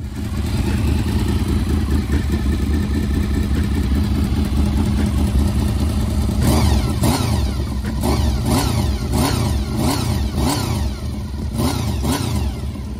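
A fifth-generation Honda VFR800 motorcycle with its OEM exhaust idles steadily nearby, then its engine is revved in a series of sharp, rhythmic throttle blips during the second half.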